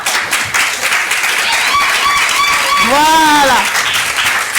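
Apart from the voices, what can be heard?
audience applause and cheering for the ambassador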